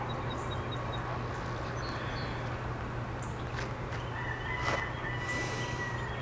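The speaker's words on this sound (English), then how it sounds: "There might actually be a wild rooster around here. I don't know if you guys can hear him crowing" A wild rooster crows faintly in the distance against steady outdoor hum and traffic noise at the ruins of an old drive-in theater, with a couple of brief crows standing out.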